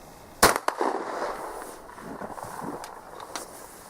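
A 12 gauge Optima shotgun fires a target load: one sharp, loud report near the start, a quick mechanical clack after it, then a fading echo and faint handling noises.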